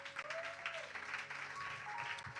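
A church congregation applauding the Lord during a French-language service: steady, dense clapping from a crowd throughout, with a faint sustained tone beneath it.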